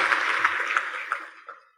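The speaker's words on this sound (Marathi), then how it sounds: "आता टाळ्या वाजवायला हरकत नाही." Audience applause fills a lecture hall during a talk by an IPS officer on winning habits, a dense burst of clapping that holds steady and then thins and fades out within two seconds.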